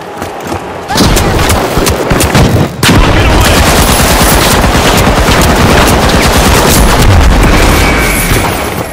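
A frag grenade goes off amid heavy gunfire in the game The Finals, a dense, loud, continuous wall of rapid shots and blasts after a short quieter opening, with a brief dip near three seconds.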